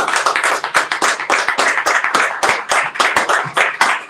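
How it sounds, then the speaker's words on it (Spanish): A church congregation claps in praise to the Lord during a Christology study, with loud, close, rhythmic hand claps falling in a steady beat. "Demos un aplauso al Señor"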